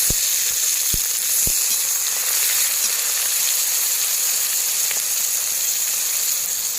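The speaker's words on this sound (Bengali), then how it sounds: "পেঁয়াজটা কিন্তু একদম ভালো করে ভেজে নিয়েছি লাল লাল করে" Onions sizzling in hot oil in a pan for a country chicken curry, a steady dense frying hiss with a few sharp clicks of stirring near the start, no talk.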